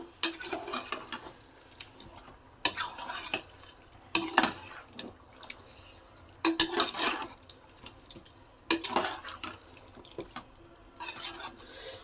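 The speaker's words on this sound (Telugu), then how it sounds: "ఇందులో పసుపు పొడి వేసుకున్న తర్వాత బాగా కలుపుకుందాం" Chicken and turmeric powder are stirred together in a pan for a farm chicken fry, with repeated wet scraping and sloshing strokes coming in bursts every couple of seconds, close-up and fairly quiet, no talking.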